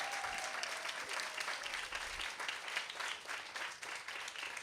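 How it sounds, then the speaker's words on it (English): Steady, dense applause from an audience at a kindergarten stepping-up ceremony, a crowd clapping for a teacher, continuous and fairly loud throughout with no talk over it. "A round of applause."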